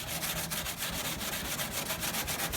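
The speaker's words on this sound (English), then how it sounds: "you can take one of these green scouring pads and just do that" A green scouring pad scrubs rapidly back and forth over peeling clear coat on old car paint, giving a close, loud, rhythmic abrasive rasp with even strokes throughout.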